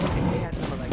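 Constant heavy video game gunfire packed into a dense, unbroken roar, with no gaps between shots.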